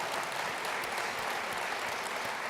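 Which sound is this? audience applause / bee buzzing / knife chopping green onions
audience applause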